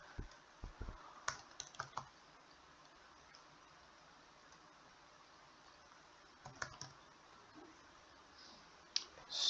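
Quiet bursts of keystrokes on a computer keyboard clatter in short clusters near the start and end, with a silent pause between them.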